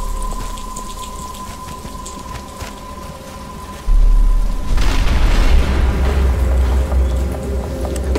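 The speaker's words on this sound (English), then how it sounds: "But it's starting to rain." Rain falling in the Batman: Arkham Asylum video game, a steady patter that suddenly swells into a heavy downpour with a low rumble partway through, loud and without talk.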